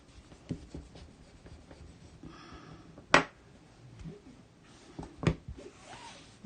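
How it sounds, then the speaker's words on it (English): A foam folder pressed down to crease paper: soft scraping and rubbing strokes with a few sharp crisp presses and taps, close and quiet. "you're going to get your foam folder, and you're going to press that down"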